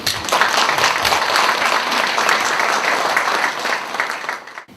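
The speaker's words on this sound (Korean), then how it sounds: "우선 같이 한번 박수 드릴까요?" Audience applause at a literary translation award ceremony honouring new translators, a loud, full and continuous burst of clapping from a crowd that holds steady, then fades and cuts off near the end.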